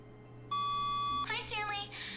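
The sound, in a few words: phone ringing in the video game The Stanley Parable: Ultra Deluxe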